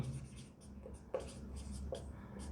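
A teacher writing on a board during a lesson about the Sun's interior, with faint scratchy strokes and a few sharp taps against the surface, quiet and close, with no talk.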